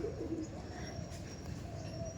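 Pigeons coo softly in a loft of golden-eyed breeding birds, with a faint low warble repeating under quiet background noise.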